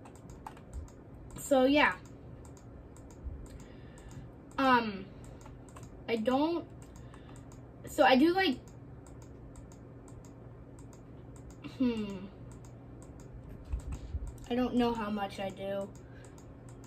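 Rapid mouse clicking while playing Roblox forms a fast stream of small clicks beneath a person talking in short bursts.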